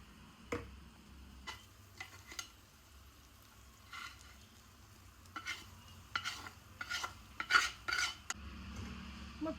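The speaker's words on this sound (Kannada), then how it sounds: "ಇವಾಗ ನೂಡಲ್ಸ್ ಹಾಕಿ ಮಿಕ್ಸ್ ಮಾಡಿದ್ರೆ ಮುಗೀತು" A utensil scrapes and clinks against a pan as noodles are tossed through a masala base, with soft sizzling underneath and scattered sharp strokes between quieter pauses.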